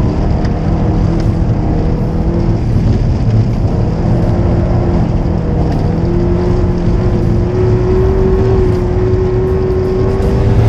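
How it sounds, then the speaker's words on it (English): A Mitsubishi Evo 8 ice racing on studded tyres, its engine droning loud and steady from inside the car, pitch climbing gradually under constant rumble and road noise. "one of the coolest sensations I've found in a car is ice racing on studs"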